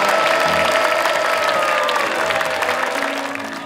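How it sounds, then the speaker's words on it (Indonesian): Studio audience at a talent game show applauds the panelists, a dense, steady wash of many hands clapping that fills the whole stretch and eases off slightly toward the end. "tepuk tangan sekali lagi buat para panelis"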